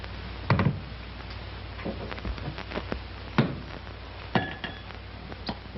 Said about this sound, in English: you take a glass up like this and you start pouring the whiskey